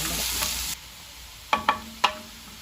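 Shallots sauté with salt in a pan for a Christmas duck curry: a sizzle first, then three sharp spatula knocks against the pan over a quieter hiss, close by and with no talk.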